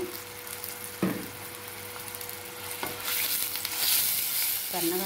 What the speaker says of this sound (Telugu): ఇప్పుడు ఆనియన్స్ వేయించుకుందాము.